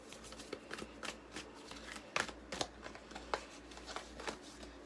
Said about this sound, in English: This whole video is just from shuffling.